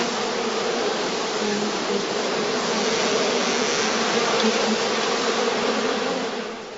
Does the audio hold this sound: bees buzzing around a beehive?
yes